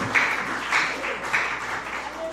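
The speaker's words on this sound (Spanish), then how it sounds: "dan un aplauso a Cristo porque le puede" Church congregation applauding, a moderate wash of clapping from a crowd that holds steady without any speech over it.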